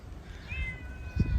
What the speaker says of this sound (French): Il y en a déjà un miaou miaou.